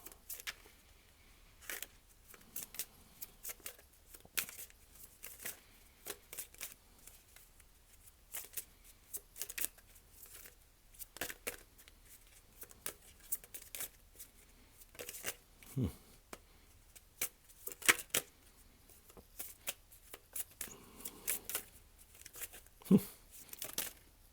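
Tarot cards being shuffled in repeated crisp riffling bursts, close and fairly quiet, with brief pauses between handfuls and occasional soft taps.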